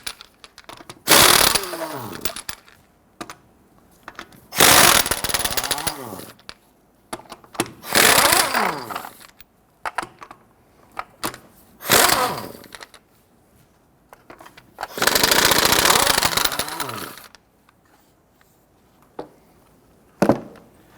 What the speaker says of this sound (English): go ahead, loosen and remove your lug nuts.